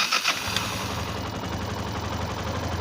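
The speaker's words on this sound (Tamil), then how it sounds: "செல்ஃப் போட்டாலும் நம்ம பைக்கும் ஸ்டார்ட் ஆகும்," A Yamaha motorcycle engine cranks briefly on its electric self-starter, catches within half a second and settles into a steady, close idle.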